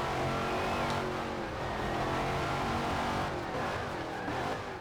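Race car engine in a B-class racing game during a weekly rival event, droning steadily and loud throughout as the driver eases off for a corner, with faint tire noise and no talk.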